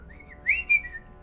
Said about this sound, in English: Give us a whistle if anyone's coming.